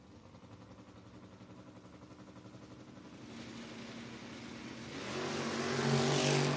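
Drag race launch of a 1972 Camaro and an S15 at a door wars event, engines rumbling low then surging into a loud, rising roar as the cars pull away, building to full volume at the end.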